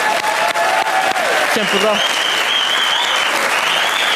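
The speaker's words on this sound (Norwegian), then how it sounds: "Stor applaus!" A studio audience at a Norwegian television show applauds loudly and continuously, a dense clapping wash filling the whole stretch while a host speaks briefly over it.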